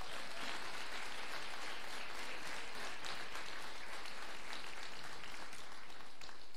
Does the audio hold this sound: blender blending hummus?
no